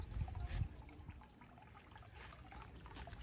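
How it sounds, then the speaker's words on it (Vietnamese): Small waterfall trickling into a backyard turtle pond, a faint, steady stream of running water with a slightly louder splash at the start. "Bây giờ mình ra đây mình nghe tiếng thác nước nè"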